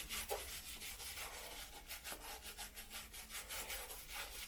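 Brush scrubbing the heel of dirty Nike Air Force One sneakers, rapid rhythmic bristle strokes, quiet and close, with no speech.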